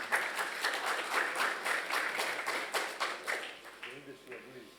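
Conference audience at a shipping forum ministerial roundtable applauding, a dense wash of many hands clapping steadily for about four seconds before fading out, with a bit of talk.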